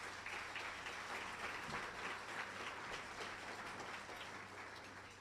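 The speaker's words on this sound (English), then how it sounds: "Can we have a round of applause for Class Act," A school district audience applauds throughout the State of the District Address, a steady, dense wash of many hands clapping together, loud and sustained for the whole stretch with no voices over it.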